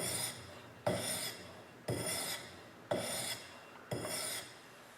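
An axe edge is pulled across 600 grit sandpaper in an X pattern, making five evenly spaced rasping strokes about a second apart, each a close, steady scrape with a sharper start.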